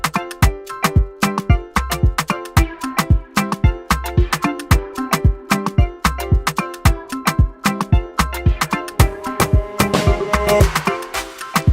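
Afropop highlife instrumental beat with bright, interlocking guitar lines over a busy percussive pattern, steady and loud throughout with no voices.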